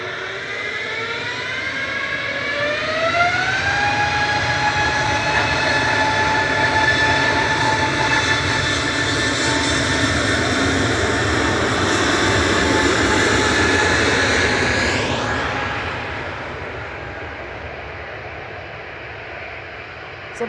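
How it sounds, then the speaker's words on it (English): A Boeing 787 airliner landing at Manchester Airport roars steadily for most of the stretch, its whining engine tones sliding in pitch, then the noise drops away as it touches down and rolls out. "the 2E 787's about to touch down"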